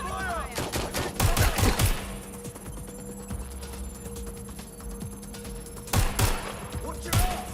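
Gunfire in the video game Watch Dogs Legion comes in sharp bursts of loud rapid shots, heaviest near the start and again toward the end, over steady background game ambience.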